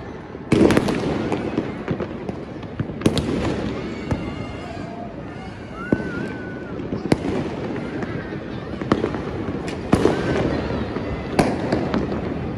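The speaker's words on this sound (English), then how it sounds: "North Dhaka City fireworks from all the rooftops of North Dhaka City." New Year fireworks over Dhaka, Bangladesh pop and bang in scattered bursts from rooftops, some near and sharp, others distant, with crowd noise and a few whistling rockets between the blasts.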